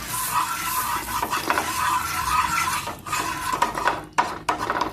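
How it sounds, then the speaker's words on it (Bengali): Turmeric crackles and sizzles in hot oil in a pan while a spoon scrapes and stirs against the metal, giving a close, continuous clatter. "হলুদটা একটু পুড়ে নেই"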